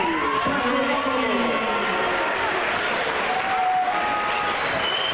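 Lively crowd applause for the Passolotti team, past Palio winners, at an outdoor agricultural festival in Cogolo, steady dense clapping with tonal whistles and voices threaded through it.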